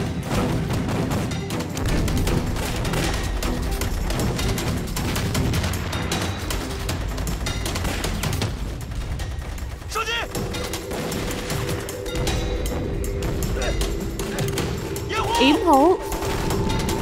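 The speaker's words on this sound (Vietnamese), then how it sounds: "Nổ pháo cho tôi." Cannon blasts and bursts of gunfire fill a war-drama battle scene, with dense rattling shots and heavy booms sustained throughout under raised voices and shouting.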